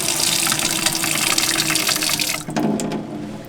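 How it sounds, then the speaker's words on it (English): Dirty water flowing through the freshwater plumbing and filter of a DIY camper van conversion, gushing steadily into a bucket; loud, close rushing flow that suddenly drops off after about two and a half seconds, leaving lighter splashes. "Bit of dirty water coming through the system."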